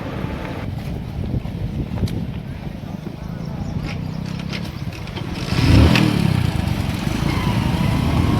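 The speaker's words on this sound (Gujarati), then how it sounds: "હવે બાઇક સ્ટાર્ટ કરીશું" A motorcycle engine idles with a low rumble in Bhinmal, Rajasthan, then revs up louder partway through and keeps running under faint background noise.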